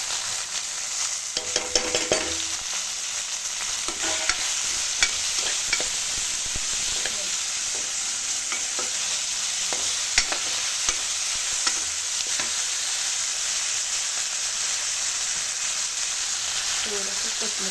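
Tomatoes fry in a pan with a steady, bright sizzle while a spoon scrapes and stirs them in irregular clinks throughout.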